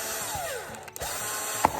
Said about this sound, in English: My drill bit is not centered.